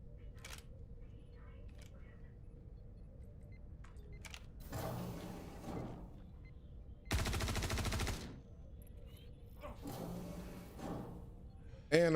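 Bursts of video game gunfire crackle in two or three rapid volleys over steady background noise, with a voice speaking intermittently between the shots.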